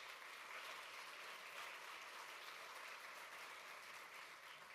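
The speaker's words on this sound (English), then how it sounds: "Give them a round of applause if you would" A large conference audience applauds union executive board members at a legislative political conference, with dense, continuous clapping that holds steady throughout.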